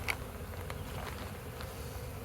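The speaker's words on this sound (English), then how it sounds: "Lots of bees." Honeybees swarming inside a hollow log being removed, a steady low insect hum filling the background with a few brief louder buzzes passing close.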